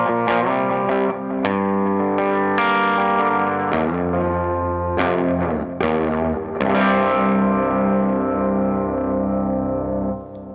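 A clean electric guitar on the bridge humbucker rings out with chords and single notes, sustained and bright, with some shimmer and slight grit on harder strums.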